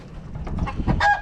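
A chicken gives a few quick, close clucks in a short burst.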